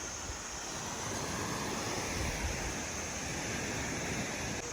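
Sea waves washing ashore at Poi O beach on Lantau Island, a dense, steady roar of surf mixed with wind buffeting the microphone, with no voices.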